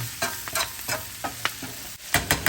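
Bacon and cabbage frying in a pan, a steady sizzle broken by repeated scraping stirs of a utensil, close and fairly loud with no talking.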